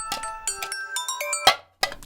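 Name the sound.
phone ringing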